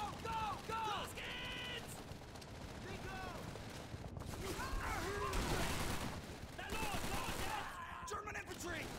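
Gunfire in a World War shooter video game, a rattle of rifle and machine-gun shots and booms spread through the scene, under voices talking over shouted in-game dialogue.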